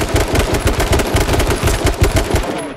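Loud, rapid automatic gunfire rattles in fast, continuous bursts during a match of the video game H1Z1, with no talking over the shots.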